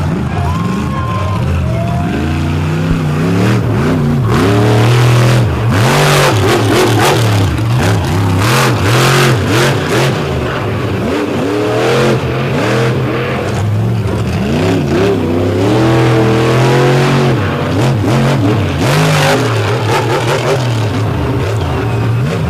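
A 540 cubic inch Kevin Stauffer-built Merlin engine in a Patrick chassis race car warms up at an All Stars event at Lake Erie. Loud and close, it blips and revs repeatedly in a rough, continuous roar.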